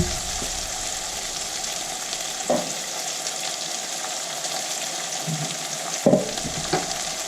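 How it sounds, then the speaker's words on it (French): Chopped onions fry in a pan with a continuous bright sizzle, broken by occasional scraping stirs and clinks as they are turned over. "Que je mélange jusqu'à ce que mes oignons deviennent légèrement translucides."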